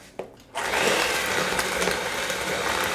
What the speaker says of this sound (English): Okay, then you take your mixer, break up your brown sugar just by pressing on it at first.